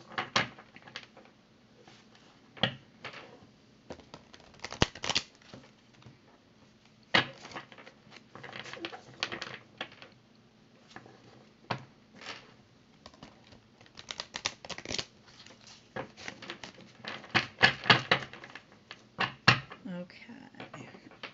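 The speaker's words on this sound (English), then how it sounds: "if you just give me 1 minute to shuffle these cards" Tarot cards are shuffled close up in a quiet room, producing irregular soft clicks, flutters and riffling bursts with short pauses between.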